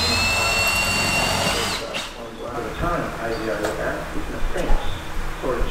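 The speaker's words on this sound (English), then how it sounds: "This snorkel gets mounted on the inside of pillar here, so just drilling out the holes now." A power drill whines steadily for a couple of seconds, drilling holes in a Nissan Navara's pillar, then stops; clanking and handling noises follow, with a voice speaking faintly underneath.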